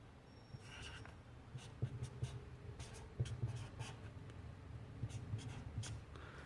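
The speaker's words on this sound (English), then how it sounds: "So I'm using a small tape to be plastered on it so that I can write the start date" A pen writes the start date on a small strip of tape: quiet scratchy strokes in short bursts, close and faint, with no talking.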